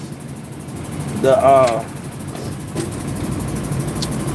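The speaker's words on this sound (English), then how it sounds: "that rear engine is louder than a motherfucker" Rear engine of a street sweeper running with a steady, loud mechanical drone, while someone talks over it close by.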